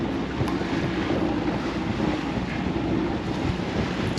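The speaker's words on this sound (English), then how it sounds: "And now we're gonna get some waves." A passing ferry's wake slaps against a sailboat, heard as a steady, close wash of water under heavy wind buffeting, with no talk.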